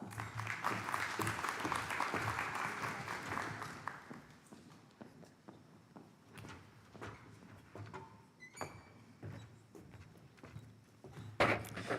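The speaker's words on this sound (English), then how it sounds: "If you could please join us and give him a round of applause." A round of applause from an audience at a community family forum on fentanyl and Narcan training, dense clapping for the first four seconds, then thinning into scattered claps, shuffling and room noise.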